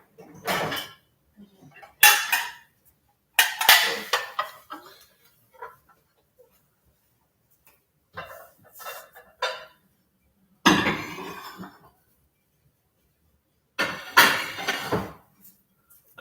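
Dishes and cutlery being washed and put away in a home kitchen, with clattering pots, clinking glass and silverware, and cupboard knocks in separate bursts between quiet pauses.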